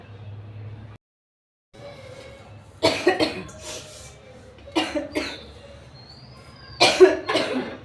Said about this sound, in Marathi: आणि खोकला खूप जास्त झालेला आहे